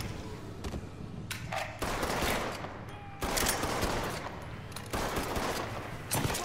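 Gunfire in the Mafia III video game: repeated bursts of shots and fusillades in clusters across several seconds, loud and close, with no clear talk over them.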